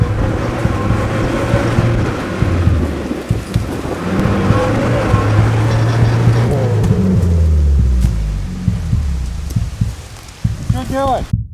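A car stuck in a forest during a wildfire, its engine revving loudly and repeatedly in rising and falling surges, with a steady roar throughout and a voice talking over it.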